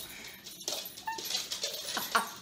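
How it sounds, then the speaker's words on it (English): Dogs roughhousing indoors produce faint, scattered whimpers, yips and scuffling noises in short bursts, heard alone at low level. "dogs are roughhousing"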